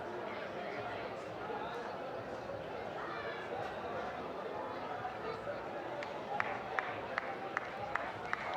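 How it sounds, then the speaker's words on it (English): A crowd at a rugby club match between Hamilton SP RFC and Tygerberg RFC cheers and chatters steadily, with scattered claps toward the end, beneath ongoing commentary. "There's a big cheer from the people in the crowd as well as the players,"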